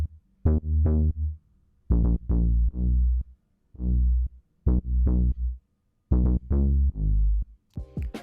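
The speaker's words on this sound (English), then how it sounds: "So this is a bass from Serum" A Serum synth bass line from a chill house track: short, punchy, tonal notes in a syncopated rhythm with gaps between, loud and close, heard alone.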